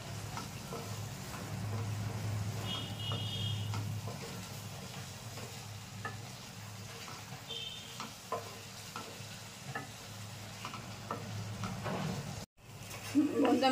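Lote fish juro stirred in a frying pan, a steady soft sizzle with scraping strokes of a spoon through the pan, fairly quiet, with a brief clatter near the end.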